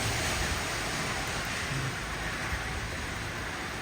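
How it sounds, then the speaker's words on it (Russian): Heavy rain pours steadily during a winter storm in California, with gusting wind and cars passing along a nearby road, blending into a continuous, dense wash of noise without pauses. "И дождь большой идет."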